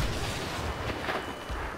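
Grenade blasts in Star Wars Battlefront during a Walker Assault on Outpost Beta, a muffled, rumbling wash of explosions and distant gunfire filling a short, continuous burst of loud combat noise.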